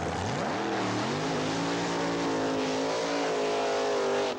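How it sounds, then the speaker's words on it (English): A 1986 Datsun 300ZX drag car, a Wild Bunch racer approaching 200 mph, accelerates hard with a loud, continuous engine roar whose pitch climbs steadily through the gears, close and sustained with no talk over it. "Tommy Howes, the pilot of the 86 300 ZX Datsun, the quickest car to date in the Wild Bunch, with speeds approaching 200 miles an hour"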